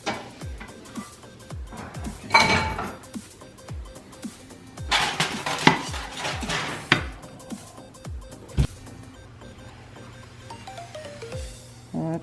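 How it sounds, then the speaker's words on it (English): A plate is fetched in a home kitchen after a stuffed beef roast comes out. Irregular clinks, knocks and clattering dishes ring out in scattered bursts, some sharp and close, with quieter gaps between. "let me get the plate"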